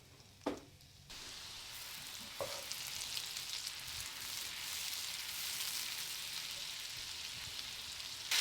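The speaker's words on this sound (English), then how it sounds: "I've got a skillet on medium heat. I'm going to put a stick of butter in that, let that start melting." Butter, garlic and crushed red pepper flakes sizzling in a skillet on medium heat, a steady bright crackle that starts after a couple of soft clinks and keeps going alone.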